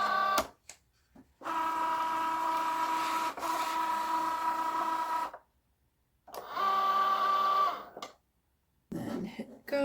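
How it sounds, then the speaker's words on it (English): A vinyl cutting machine loads a sheet of smart vinyl, removable type, with a steady motorized whir and stepped tones in two runs broken by short pauses, loud and close. "I'll just load the material into the machine."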